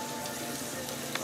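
Garlic sizzling in melted butter in a hot pan, a steady close crackling hiss throughout the short moment.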